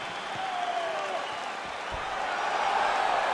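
A video game arena crowd in EA Sports UFC 4 cheers and applauds at the start of a fight, a steady roar of crowd noise with a commentator talking over it.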